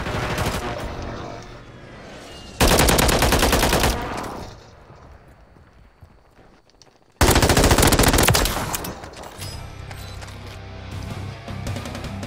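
Two loud bursts of automatic gunfire from an SMG erupt in a Call of Duty: Warzone Trios Resurgence match, each lasting a couple of seconds, with quieter game ambience between them and players talking.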